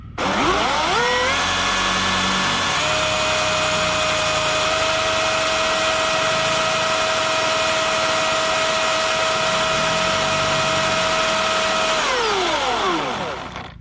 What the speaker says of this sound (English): hit the trigger on this thing, get some oil flowing in that chain before we make a cut